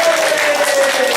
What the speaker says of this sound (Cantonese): 大家俾啲掌聲佢咯。